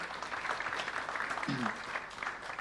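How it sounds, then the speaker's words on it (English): A church congregation at a Sunday service claps for a team member, a brief, moderately quiet round of applause from many hands, steady and roomy throughout. "You can give her and the team a round of applause."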